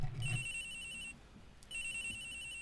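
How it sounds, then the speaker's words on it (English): A telephone rings in the Phoenix Wright: Trials & Tribulations video game, two bright electronic trilling bursts separated by a short gap, clean and moderately quiet. "Phone's ringing."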